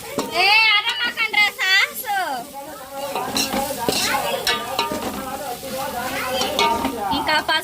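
Turmeric is stirred into chicken bones frying in a pan in a home kitchen, giving a continuous sizzle with scraping stirs beneath people talking, including a voice.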